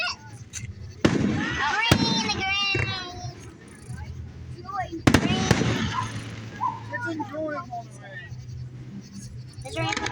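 Fourth of July fireworks bursting with sharp cracks and booms at intervals, mixed with children talking and shouting over them nearby.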